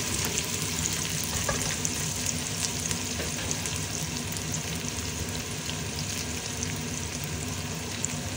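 Plenty of onions fry in a pot for pork dinuguan, giving a dense, continuous sizzle and crackle close by, with occasional light stirring scrapes and no voices.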